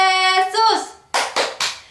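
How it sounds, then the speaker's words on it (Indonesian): A voice chants a short sung call in a children's clap chant, followed by three quick, crisp hand claps close by. "Namun sebelumnya kita tepuk Yesus"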